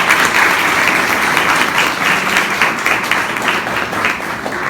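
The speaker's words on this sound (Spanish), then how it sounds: "pido para él un fuerte aplauso" Loud sustained applause from an audience at a teacher-training college event, dense and continuous clapping that fades slightly toward the end.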